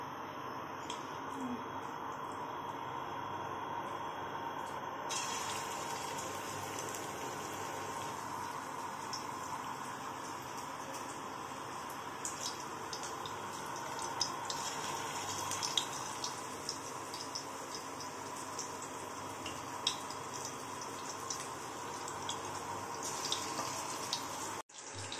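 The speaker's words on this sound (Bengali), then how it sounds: "পকোড়া ভাজার জন্য তেলটা গরম করে নিয়েছি।" Chicken pakoras fry in hot oil, a faint, steady bubbling sizzle that runs throughout and brightens after the first few seconds, with no talk.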